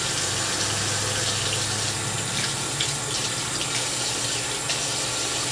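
Tap water runs steadily and loudly into a sink for the whole stretch while hands are kept wet, with faint splashing shifts as they move under the stream.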